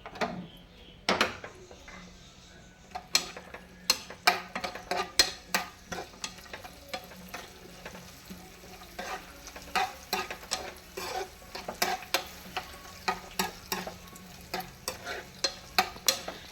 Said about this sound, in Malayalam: നെയ്യിലിട്ട് റോസ്റ്റ് ചെയ്തെടുക്കണം കാഷും കിസ്മിസും